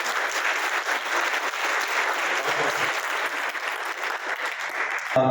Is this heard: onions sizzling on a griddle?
no